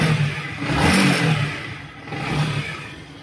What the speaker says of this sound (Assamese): ফাইনেলি ষ্টাৰ্ট হৈ গ'ল আমাৰ গাড়ী